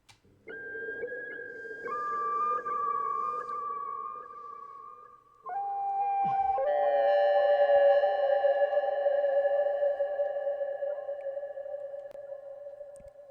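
Sustained synthetic tones glide and shift pitch like a processed birdlike call, not from a real bird, washed in long, heavy reverb, with no voices present.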